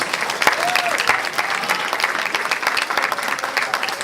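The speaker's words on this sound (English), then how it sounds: "Give a big applause to Megha and Saudurya" Audience at a Hindu temple's Balavihar annual day applauding two performers, steady crowded clapping throughout, moderately loud and continuous with a few sharper claps standing out.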